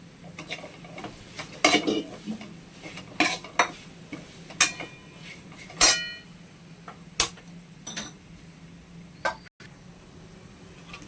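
A spoon stirs sweet ukadiche modak filling in a pan, giving irregular scrapes and metallic knocks against the pan every second or so, close and clear with no talking.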